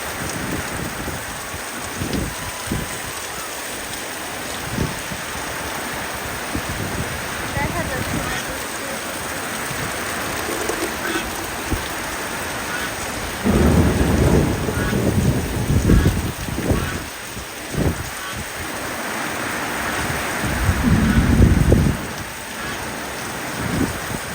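Heavy rain hisses steadily on a garden house and its surroundings, swelling into louder rushing surges, with low rumbles of thunder and a voice speaking now and then.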